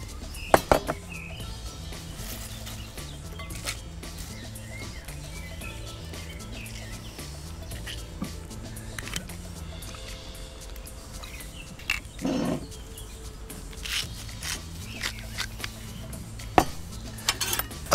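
Utensils clink and scrape while a salad dressed with lemon juice and olive oil is tossed gently, steady light tapping and rustling over a constant background hum.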